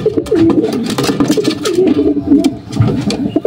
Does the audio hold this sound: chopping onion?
no